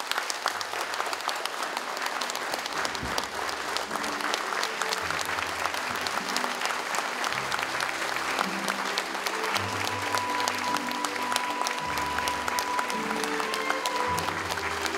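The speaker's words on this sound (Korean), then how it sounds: "박수 한번 부탁드릴게요." A crowd applauds steadily through a Daegu mayor's farewell ceremony for outgoing mayor Kwon Young-jin. The clapping is sustained and even for the whole stretch, with faint tonal background sound beneath it.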